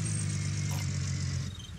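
A car engine idles with a steady low rumble in the Gold Rush: The Game video game, fading slightly near the end and heard alone without talk.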